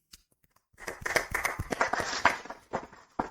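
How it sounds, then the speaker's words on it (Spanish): Scattered hand claps break out after a short silence and carry on unevenly, close and moderately loud, welcoming a guest evangelist at the start of an interview. "para el cual yo le doy un aplauso"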